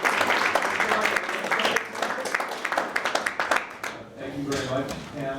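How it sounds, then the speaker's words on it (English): Audience applauding a panel at a talk on green development, a brief burst of dense clapping that thins into scattered claps, with voices speaking over it toward the end. "How about a round of applause?"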